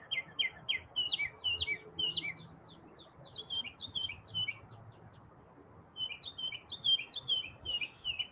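Several birds sing outdoors in Ravenscar, bright chirping phrases and trills repeating in quick bursts close by, with a short pause midway before the song resumes, over a soft background hum and no talking.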